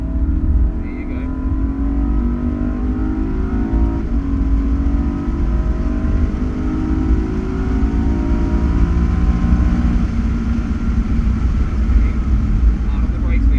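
Race car engine on a track school circuit at Wakefield Park, held at steady loud drone with rising throttle, constant engine roar filling the whole stretch with an instructor talking over it.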